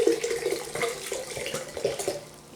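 Red wine pours steadily from a bottle into a carafe in a continuous gurgling, glugging stream, close and moderately quiet, with no speech over it.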